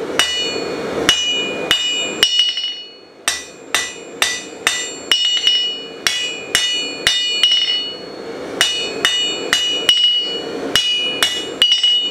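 Metal being hammered to taper a shoulder, in steady, loud, ringing blows on an anvil, about two per second in three runs with short pauses between them, close up with no talk.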